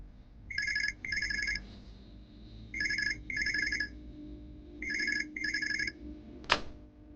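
A telephone rings in repeated pairs of bright electronic trills, three double rings separated by short pauses, followed by a quick sharp swoosh at the end, with no one talking.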